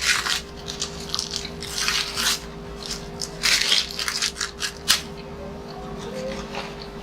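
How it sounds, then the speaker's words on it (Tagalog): A crinkly plastic snack package being torn open and handled close by, giving irregular sharp rustles and crackles over quiet background noise. "Teka lang po, maingay ito. Pupunitin ko."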